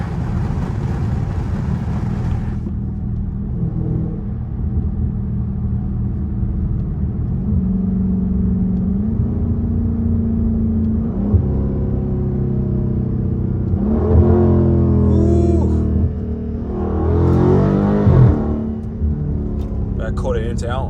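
A Dodge Charger Scat Pack with a back quarter intake rumbles low and steady while cruising dark back roads at night, swelling into a couple of throatier revs, with someone talking over the engine.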